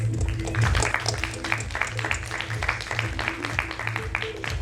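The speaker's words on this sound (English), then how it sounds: "A big round of applause, please." Applause from an audience at a corporate felicitation event, moderately loud and continuous, with a low hum and some voices underneath.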